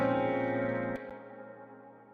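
A sustained tone smeared by repeating Space Echo tape delay echoes that bleed into a long, washy Space reverb tail, the sound thinning out and fading after about a second.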